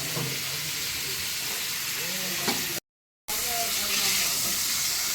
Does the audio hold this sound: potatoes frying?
yes